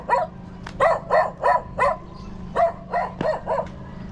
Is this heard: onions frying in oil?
no